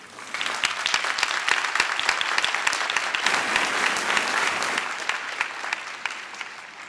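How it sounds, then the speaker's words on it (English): Steady applause fills a college commencement ceremony, with a large audience clapping warmly for several seconds before the sound thins toward the end. "Please join me in thanking all these people with a warm round of applause."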